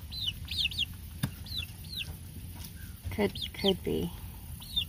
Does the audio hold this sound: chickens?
yes